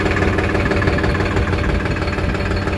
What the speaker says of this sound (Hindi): हमारे अखिल भाई के ट्रैक्टर फंस गया था।